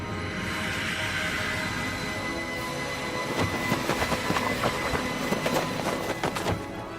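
A night train arriving as a sound effect in a horror animation, a steady rumbling roll that grows into rhythmic clickety-clack wheel beats partway through, fairly close and loud, no talking.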